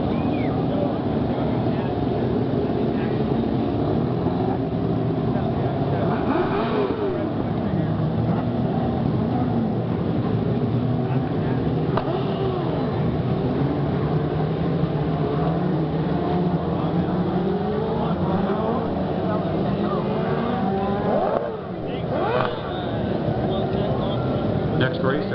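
Race cars circling a dirt track, a steady distant engine roar with rising and falling passes, heard under continuous announcer talk.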